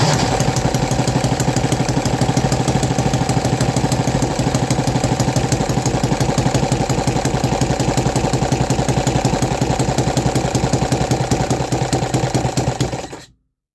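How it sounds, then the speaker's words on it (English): A small engine struggles to idle, running roughly and steadily for several seconds with a rattling, uneven idle, before cutting out abruptly at the end. "the engine started having a hard time idling"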